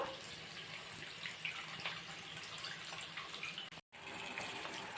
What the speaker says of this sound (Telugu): ఇప్పుడైతే చింతపండు పులుసుని యాడ్ చేసేసుకుందాం.